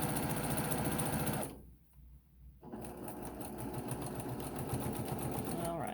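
Sewing machine stitching a hem on wide-leg jeans, a loud rapid motor whir that stops briefly, then resumes steadily to the end, with a voice talking over it.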